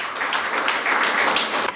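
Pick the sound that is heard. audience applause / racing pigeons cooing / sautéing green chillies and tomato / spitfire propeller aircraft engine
audience applause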